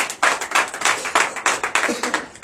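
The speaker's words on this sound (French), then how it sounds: "Donnez l'acclamation à Jésus." A congregation at a Saturday morning prayer service in Benin claps hands together in a quick, steady rhythm, loud and close, with no one speaking over it.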